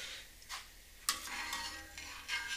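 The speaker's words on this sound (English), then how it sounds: "Now stir it, and we're just going to wait for it to again start boiling" Vinegar brine being stirred in a pot: faint scraping swirls and a few light clinks of a utensil against the metal, with soft bubbling beneath.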